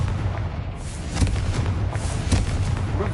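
A Confringo fire-blast spell from the Hogwarts Legacy video game goes off in a few loud, booming bursts over a steady rumbling background, with no voices.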